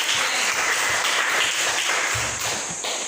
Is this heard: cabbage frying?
no